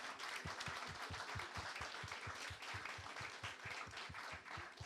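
A church congregation applauds volunteers during a Sunday worship service, a faint, even wash of many hands clapping, heard from a distance and steady throughout with a soft low pulse beneath.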